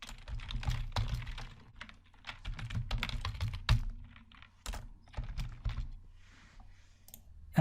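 Typing on a computer keyboard while entering Python code in a Jupyter notebook, a close, quiet run of irregular key clicks and thunks with short pauses.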